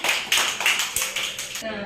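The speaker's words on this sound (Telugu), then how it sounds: "క్లాప్ కొట్టండి సహస్రకి" Children clapping for a girl who has just sung, a few short bursts of applause in quick rhythmic claps, close and lively, with an adult voice speaking over them.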